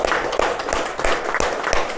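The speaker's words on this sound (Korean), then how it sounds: "그 박수 한번 쳐주자" A short burst of clapping at a fund managers' investment strategy meeting, a few hands clapping unevenly close by for about two seconds, with no talk over it.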